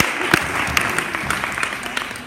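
Audience clapping at a celebration honoring a man, a dense wash of hand claps with a few sharper close claps standing out, steady and moderately loud for a couple of seconds.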